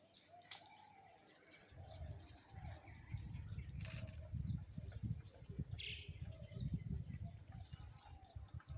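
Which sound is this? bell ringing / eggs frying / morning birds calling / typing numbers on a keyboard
morning birds calling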